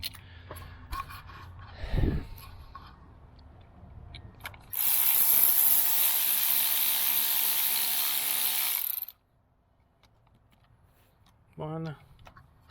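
A ratchet snugs the ignition coil bolts on a 2014 Chevy Sonic with a 1.8L Ecotec engine, a dense burst of rapid clicking lasting several seconds, close and loud, with a short spoken remark afterward and scattered handling clatter before.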